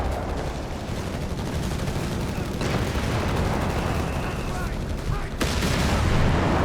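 Gunfire from a Stummel armoured vehicle crackles through a Company of Heroes 3 battle, sharp shots rising over a dense, continuous din of distant combat with a louder burst near the end.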